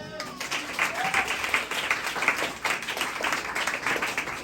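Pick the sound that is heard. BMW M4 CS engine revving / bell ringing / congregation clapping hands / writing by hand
congregation clapping hands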